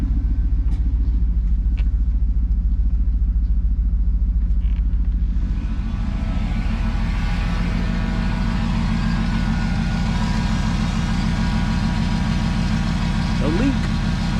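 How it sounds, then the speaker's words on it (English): The engine of a GMT-400 truck idles with a steady, loud rumble as its cooling fans kick on partway through, adding a broad rushing whoosh over the idle. "Fans are kicking on still."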